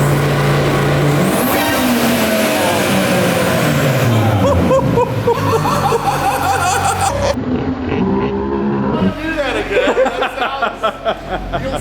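An Audi RS3 on a dyno launches hard, its engine roaring loud and continuous with rising revs, shifts and a rough burbling tail near the end; it stays close and dominant throughout.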